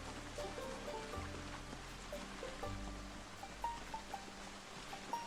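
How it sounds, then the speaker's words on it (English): Steady rain falls inside the survival game Project Zomboid, a soft continuous patter with scattered light drops ticking through it, no voices present. "It's raining today."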